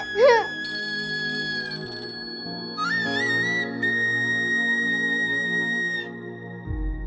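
A telephone rings on and on unanswered, an electronic ringtone melody repeating in bright tonal phrases over a low background, with no voice picking up.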